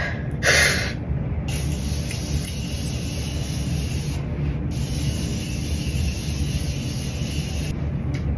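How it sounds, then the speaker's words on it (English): A brief hissing burst of setting mist sprayed onto a face near the start, then steady faint background hiss and rumble with no talking. "Setting mist. I'm gonna spray it on my face."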